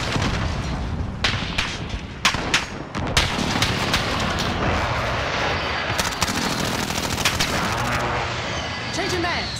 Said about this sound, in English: Allied strike airstrike incoming.